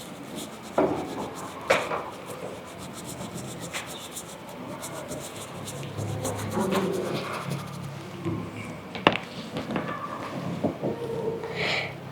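An egg is rubbed with toothpaste at a school science fair, producing soft repeated scrubbing and scratching strokes, close and quiet, with faint talking and background chatter around it.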